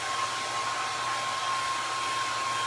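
A hair dryer runs steadily throughout, a constant close, loud whir with a thin steady whine, used to dry a thrifted vintage Christmas gravy bowl craft piece.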